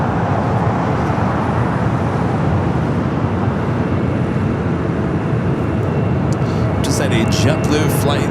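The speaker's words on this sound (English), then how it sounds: "JetBlue Flight 287 coming in from Boston, an A321 just touching down here on the south" A JetBlue Airbus A321 arriving from Boston touches down on the south runway at LAX, giving a loud, steady broadband roar that holds throughout, with faint voices in the background.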